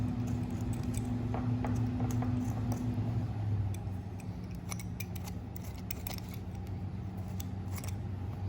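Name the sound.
cutting red meat off deer ear cartilage for taxidermy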